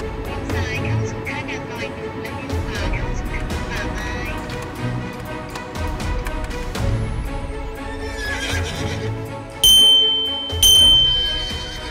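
A horse pulling a horse-drawn carriage, its hooves clip-clopping in a steady rhythm close by, with a neigh and bright bell dings near the end.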